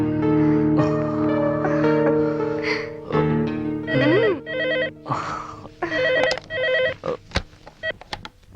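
A telephone rings in a tense police action film scene, with a bright electronic ringtone repeating loudly in patterned bursts over a music score, ending in a few sharp hits.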